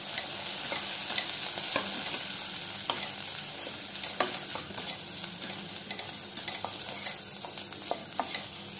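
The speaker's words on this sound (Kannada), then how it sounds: "ಸ್ವಲ್ಪ ಇದರಲ್ಲಿ ಫ್ರೈ ಮಾಡಬೇಕು." Grated coconut mixed with turmeric powder stir-frying in a pan for a vegetable palya, giving a steady sizzle with repeated scraping stir strokes close up and no talking.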